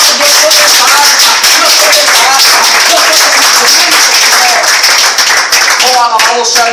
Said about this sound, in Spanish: Si tú lo crees, bríndale un fuerte aplauso